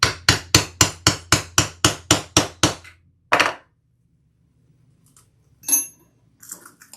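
Long rivets hammered into thick leather: about ten sharp, evenly spaced metallic strikes in quick succession, then one final louder blow after a pause, followed by faint clatter and shuffling handling noises.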